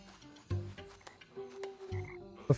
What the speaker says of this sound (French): je ne peux pas passer pour cause de grenouilles chantantes